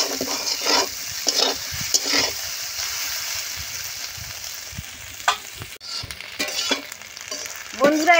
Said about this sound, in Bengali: এইভাবে নেড়ে চেড়ে ভালো করে সয়াবিনটা ভেজে নিতে হবে।